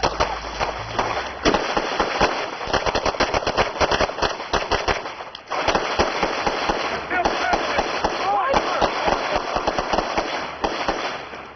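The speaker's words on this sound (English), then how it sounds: "Did you hear the shotgun on the side of you?" Rapid shotgun and gunfire blasts crackle in dense bursts, loud and close, with a brief pause midway before another sustained volley, while voices are faintly mixed in underneath.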